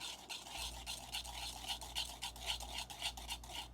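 Baking batter stirred in a bowl, a spoon scraping in quick regular strokes, close and quiet over a faint low hum.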